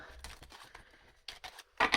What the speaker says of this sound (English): excuse my shuffling of these massive cards